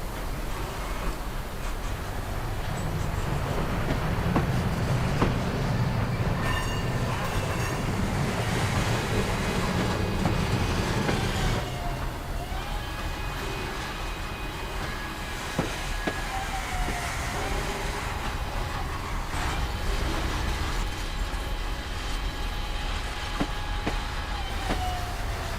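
A long freight train carrying western rolling stock rolls past on an industrial rail line, a continuous broadband rumble and wheel noise with metallic squeals and clanks, mixed with steady wind buffeting on the microphone.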